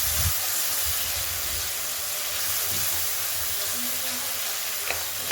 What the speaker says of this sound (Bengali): খুন্তি দিয়ে ভালো করে নাড়াবেন